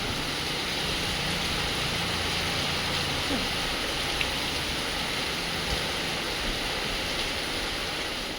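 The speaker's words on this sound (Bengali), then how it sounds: "দেখো বৃষ্টি পড়ছে," Heavy evening rain pours down beyond a balcony, a constant broadband hiss and patter, loud and close, with faint background sounds beneath the downpour.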